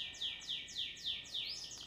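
A large canary singing in a repeated series of five bright, descending chirps at a steady rhythm, clear and close against a quiet background.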